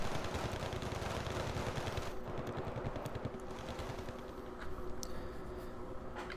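Missiles and small-arms fire crackle in a dense, continuous barrage as Milan F3 anti-tank missiles are launched at M113 armored carriers in a video game, with rapid repeated shots layered over a steady roar.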